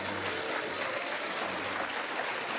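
Studio audience applause on the Dr. Phil show, a dense steady wash of many hands clapping that holds at an even level throughout, with no voices standing out.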